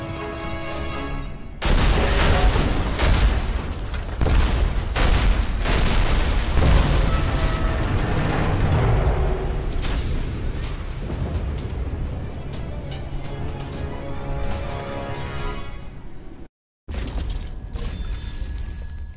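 Heavy, sustained explosion roar as a pumping station is blown up in a science-fiction scene, rumbling blasts and crackling debris, loud and continuous, broken by a brief cutout near the end.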